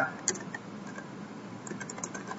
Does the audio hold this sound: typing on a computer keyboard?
yes